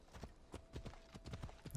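Horse hooves clip-clop at a gallop in Assassin's Creed Odyssey, a quick uneven rhythm of soft thuds, fairly faint and steady across the short stretch with no talking over it.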